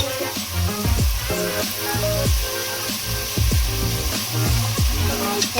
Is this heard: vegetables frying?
yes